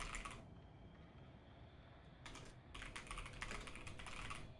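Rapid keystrokes clatter on a computer keyboard in two bursts, a short one at the start and a longer, denser run later, close-up over faint room noise with no talking.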